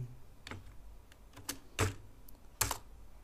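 Several sharp keyboard key taps, irregular and close, with quiet gaps between them.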